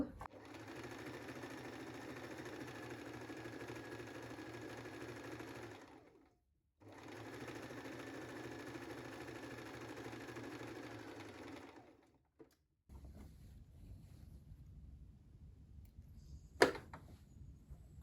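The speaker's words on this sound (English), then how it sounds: "I would just line up the edge of my fabric with the edge of the presser foot, and then I know that's less than 1 centimeter. Let's sew." A sewing machine stitches skirt fabric in two long, steady motorized runs with a short pause between them, followed by quieter handling and a sharp click near the end.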